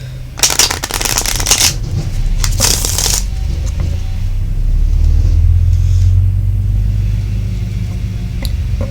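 Tarot cards being shuffled in quick riffling bursts during the opening three seconds, with a steady low rumble of background traffic or engine noise running beneath and continuing alone afterward.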